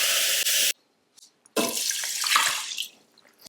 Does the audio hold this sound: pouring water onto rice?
yes